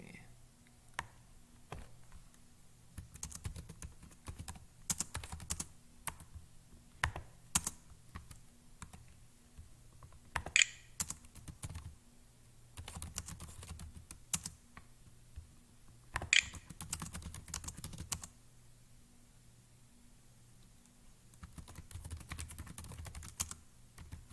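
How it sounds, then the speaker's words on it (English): Typing on a computer keyboard: bursts of quick, close key clicks in irregular clusters, pausing between runs, with a low steady hum underneath and no talking. "Let me pull up my keyboard."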